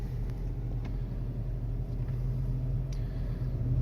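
Dodge Magnum RT with a Hemi V8 and K&N cold air intake, in gear on a dyno, gives a steady low engine rumble that holds even and continuous, close and moderately loud.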